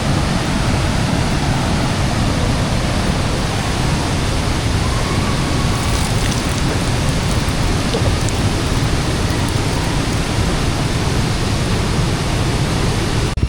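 A waterfall on a trip to Ganga Samudra backwaters pours a steady, loud rush of broadband water noise, unbroken and close for the whole stretch with no voices.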